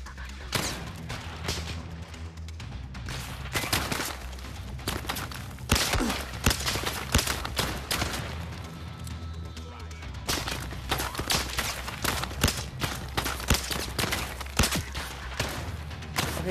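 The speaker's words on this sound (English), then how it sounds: "I want to see if this is possible to snipe with a pistol." Repeated pistol and revolver gunshots crack out in a shooter game, fired at long range in a VR sniping attempt; sharp reports come in irregular bursts with thumps, loud and close throughout, with no talk.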